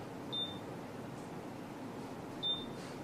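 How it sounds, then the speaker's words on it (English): A Babyliss Pro Perfect Curl curling iron gives two short, clear electronic beeps about two seconds apart, close and distinct over a quiet background hiss. "So when you hear 4 beeps like that, time to let go."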